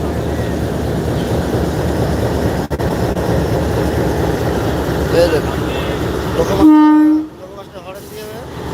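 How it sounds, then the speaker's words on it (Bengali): A train pulls out of Ishwardi railway station bound for Khulna, its rumbling departure mixed with station crowd noise and voices, then a loud sustained horn blast near the end. "তিনি ট্রেনটা ছেড়ে দিল প্রিয় দর্শক দেখুন ট্রেন চলে তার নিজ গতিতে"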